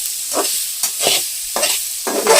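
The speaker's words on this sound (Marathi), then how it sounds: "याच्यात व्यवस्थित कांदा परतून घ्या" Chopped onion sautéed in oil for a bamboo shoot bhaji, heard as a steady sizzle broken by four or five scraping stirs of a spoon in the pan, close and fairly loud with no voices.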